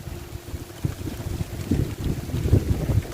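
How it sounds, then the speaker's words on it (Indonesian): Strong wind gusting through a Cavendish banana plantation, buffeting the microphone with uneven rumbling blasts that build toward the end. "Anginnya lumayan banter."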